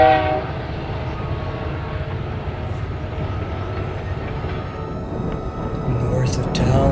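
Freight train led by an EMD SD70i locomotive built in 1995, with a C44-9W unit, rumbling past in Carmel, Saskatchewan, a loud steady roar of engines and rolling wagons throughout.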